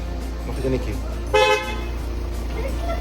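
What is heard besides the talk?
car horn honking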